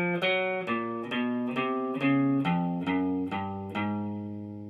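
A guitar plays the spider crawl finger exercise, a steady run of evenly spaced single notes stepping through a pattern, clear and close with a slightly processed tone.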